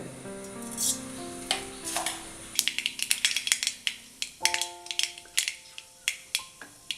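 Mustard seeds popping in hot coconut oil in a pan, a rapid series of sharp crackling pops over a soft sizzle, building up and continuing close by with no talk.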